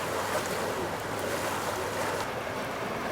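Water gushing steadily out onto a street after an accident that damaged an axle and knocked down a sign, a constant broadband rushing roar with no breaks and no talk.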